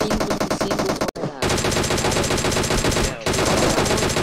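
Sustained machine-gun fire in PUBG Mobile rattles in fast, even bursts, loud and close, breaking off twice briefly before resuming at the same rapid rate.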